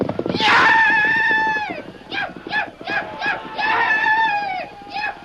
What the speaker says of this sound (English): Tonto depended upon speed and his wild yells to be taken for just another Blackfoot brave.